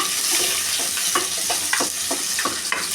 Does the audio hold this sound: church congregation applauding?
no